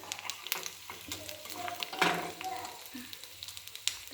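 Amla (Indian gooseberry) cooking in oil in a pan to make homemade hair oil gives off a close, steady crackling sizzle, with a few sharper pops and soft clinks scattered throughout.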